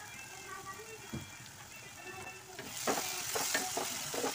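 Onion frying with ginger-garlic paste for chicken kheema crackles and sizzles steadily in a pan, with stirring scrapes that grow louder toward the end, while a voice talks faintly underneath.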